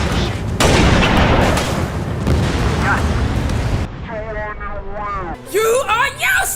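Heavy booming blasts and rumbling gunfire from an aerial combat video game, loud and continuous at first, then giving way to shouted radio voices warning of an incoming missile.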